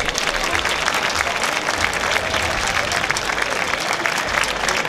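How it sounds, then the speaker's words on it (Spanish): Loud, continuous applause from a large crowd at a Spanish town festival with the coronation of the festival queen, a thick, steady roar of clapping with no pauses. "Pediría un fuerte aplauso para todos ellos."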